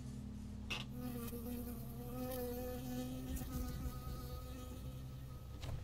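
A bee buzzing in a video game, a steady droning hum that sustains throughout over low background game sound, with a couple of brief clicks.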